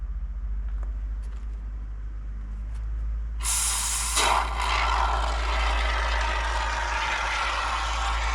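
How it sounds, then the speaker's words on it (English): Great Stuff spray foam hisses loudly from the can as it fills a gap, a steady broadband spray starting partway through over a low background rumble. "I'll take some spray foam and fill in the gap around it"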